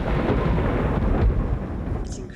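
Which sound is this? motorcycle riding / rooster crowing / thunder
thunder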